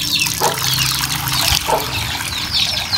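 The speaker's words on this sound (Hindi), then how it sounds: "अब मैं पानी डालता हूँ इसमें," Water is poured into a pigeon's drinking dish, a continuous splashing trickle with a couple of brief louder bursts, close by and steady throughout.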